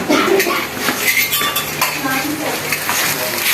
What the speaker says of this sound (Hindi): अब हम इसको डिश आउट कर लेते हैं, आपको दिखाते हैं।